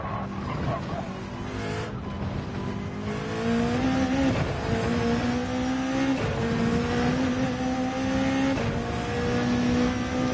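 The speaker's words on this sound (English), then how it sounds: "of course it's a V8, but I don't think it sounds as nice as the Ferrari" A V8 hypercar engine in Gran Turismo 7 revs loud and steady, its pitch climbing through gears in repeated rising sweeps, with tires squealing over a continuous racing roar.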